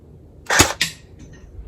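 An airsoft Kalashnikov replica fires a single sharp shot, a close crisp crack followed by a brief mechanical echo, then quiet.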